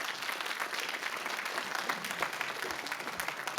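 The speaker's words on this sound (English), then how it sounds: "Give him a nice round of applause" An audience at an IT leadership panel at Sweetwater applauds, steady crowd clapping heard at moderate volume throughout.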